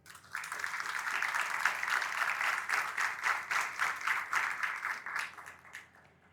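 Audience at a panel forum breaks into sustained applause after invited panelists are introduced, the clapping even and moderately loud before fading out at the end.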